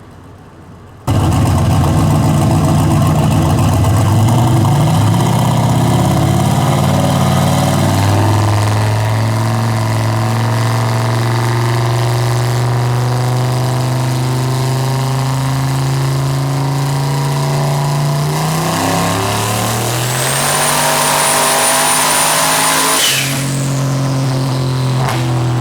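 A turbocharged Gen 3 V8 in a Chevrolet Nova clone, with a billet 7875 turbo, 3-inch intercooler and piping and a stock intake, starts and idles loudly, rises through a long rev, then settles back with a turbo whistle.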